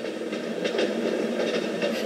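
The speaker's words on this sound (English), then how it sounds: "Train!" A train rumbles steadily along the rails with a continuous low roar and faint rhythmic clatter, fairly close, with no voices.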